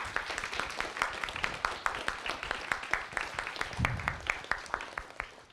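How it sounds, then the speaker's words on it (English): Audience applause at a science cafe talk on micro-computed tomography, a steady fast patter of many hands clapping close by for the full stretch, with no talk over it. "Let's give him another round of applause."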